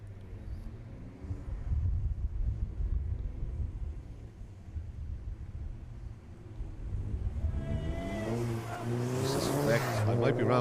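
Touring cars in a club circuit race, a Golf GTI leading, approach as engine roar builds and rises in pitch toward the end, loud and close, with commentary running throughout.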